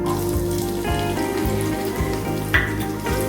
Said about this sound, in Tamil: சின்ன வெங்காயத்தை சேர்த்து நம்ம நல்லா வதக்கிக்கிடுவோம்